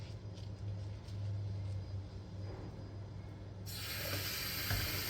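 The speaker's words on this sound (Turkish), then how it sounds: "Şimdi güvenli bir şekilde suyu aç." Water runs from a kitchen tap into a sink, a steady hiss under a low hum that grows brighter and louder partway through as the flow increases.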